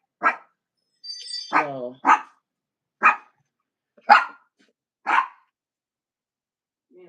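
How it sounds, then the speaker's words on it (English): A dog barks in a series of sharp, spaced woofs, about six over several seconds, with a brief whine or yelp mixed in early on. "All the barking, please and thank you."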